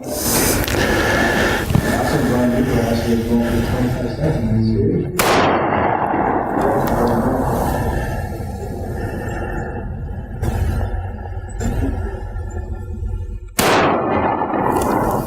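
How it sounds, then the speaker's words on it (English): Two 12-gauge shotgun shots fired from a standing position, each a sharp, loud blast with a ringing decay, the first about a third of the way in and the second near the end, over constant background noise. "here we go with 2 12-gauge shots standing up"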